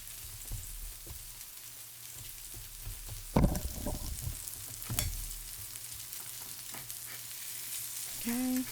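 A corned beef brisket sears in a pan as its fat renders, a quiet steady sizzle broken by a couple of loud thumps and scrapes as the meat is moved, close by and without speech.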